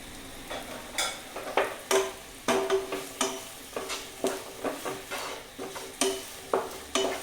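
Okra stirred with onions in a pan produces a steady run of close, crisp scraping and tapping strokes from the spoon against metal, with a light sizzle beneath.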